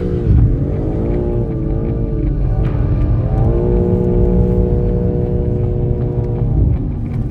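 A BMW M3 with xDrive all-wheel drive drifts on an ice track, its engine droning loudly with rising and falling revs as the car slides, heard from inside the cabin.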